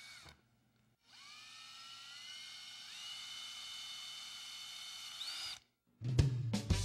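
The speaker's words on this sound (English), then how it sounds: "And we drill the holes for the rivet installation." A high-pitched power drill whirs steadily for several seconds, pitch rising slightly as it bites into an Airstream trailer's metal rock guard rail for rivet holes, then stops, followed by a short clatter.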